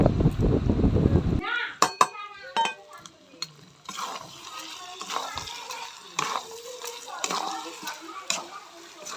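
Mutton pieces are stirred in a hot pan with a metal spoon, scraping and clinking repeatedly over a steady, close sizzle of frying meat after a loud opening burst.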